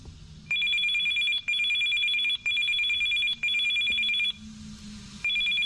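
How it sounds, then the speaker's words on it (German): An annoying phone ringtone in the video game Still Life 2, a bright electronic trill repeating in even bursts with short gaps, clear and alone with no talk. "nerviger Klingelton."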